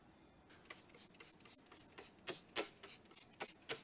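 Short hissing bursts from a can of leak check spray on a muffler repeat in a steady rhythm, about a dozen quick sprays close up, with no voices.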